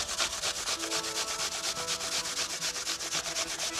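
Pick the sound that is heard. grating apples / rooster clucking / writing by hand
grating apples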